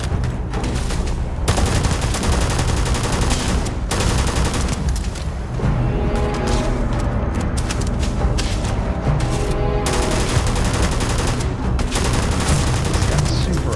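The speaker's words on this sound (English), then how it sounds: "Looks like we can't kill him. We shot him a lot." Heavy gunfire in the Starfield video game: dense bursts of rapid automatic shots and booming blasts, loud and close, going almost nonstop with only brief gaps.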